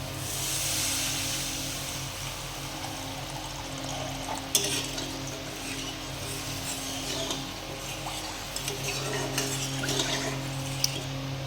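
Water goes into a pan of fried hilsa curry spices, raising a loud steady sizzling hiss and bubbling with occasional clinks of a utensil against the pan, close up throughout.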